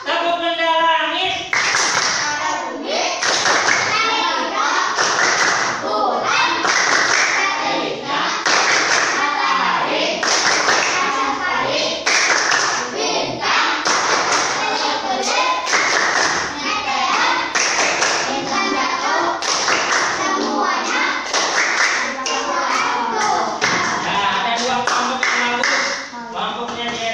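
Schoolchildren in an elementary classroom perform the rhythmic clapping game tepuk benda langit, sharp patterned hand claps interleaved with chanted words, loud and close, continuing for the whole stretch.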